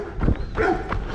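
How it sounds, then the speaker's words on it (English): Dogs bark nearby in a short burst of yips and woofs, heard during a downhill road run, with faint footsteps underneath. "even the liberal dogs don't like me"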